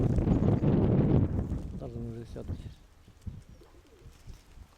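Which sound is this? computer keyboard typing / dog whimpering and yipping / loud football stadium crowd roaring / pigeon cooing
pigeon cooing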